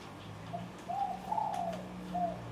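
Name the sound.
grandmother's pet bird cooing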